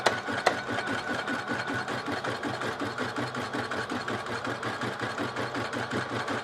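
An embroidery machine stitches machine-tatted Christmas ornaments, a fast steady mechanical hum and rhythmic needle pulsing that runs continuously at close range, with a couple of faint clicks at the start.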